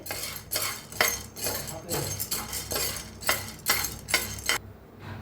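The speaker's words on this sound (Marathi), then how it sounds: "आता फुटाने एक वाटी घेतलेलं आहे त्याला बी हलकंसं भाजायचं आहे" Roasted chickpeas are stirred in a pan, a spoon scraping and clinking against metal in repeated rhythmic strokes, close and fairly loud, with no talk over it.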